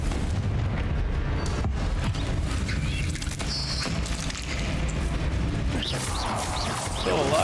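Confringo fire spell explosion in the video game Hogwarts Legacy, a loud booming blast with rumbling low end layered over dense battle effects and game music, continuous and close.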